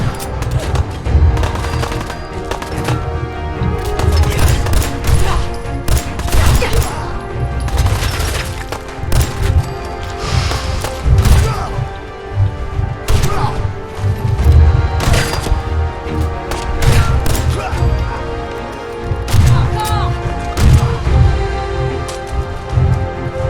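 Sustained minigun fire in the Fallout 4 video game, a dense loud rattle of rapid shots with bursts and booming impacts running through the whole stretch, no voices.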